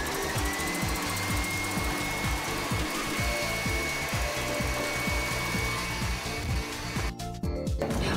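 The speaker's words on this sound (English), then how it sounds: "While the egg is whipping up with the sugar until a really nice fluffy sabayon" An electric mixer whips eggs with caster sugar into a fluffy sabayon for cherry cupcakes, making a loud, steady whirring drone with rhythmic beater chatter that runs the whole time.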